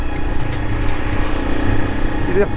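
An old motorcycle engine putters steadily up close in the rain, a continuous rough mechanical drone, with a brief rising whine near the end.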